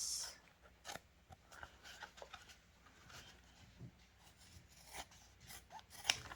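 Scissors snipping through leather while cutting out an ID badge holder, a quiet, close run of irregular cuts and rasping rubs with no voices.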